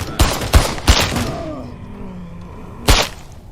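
Gunshots in the Contagion VR video game: three loud, close shots in quick succession, a lingering tail, then a fourth shot after a pause.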